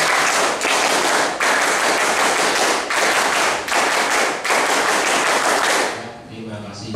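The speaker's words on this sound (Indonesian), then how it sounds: "Semuanya 2 kali tepuk pramuka." A scout group claps the Pramuka rhythmic pattern in a quick rhythm, repeated in several bursts with short pauses between, loud and close, ending in a murmur of voices.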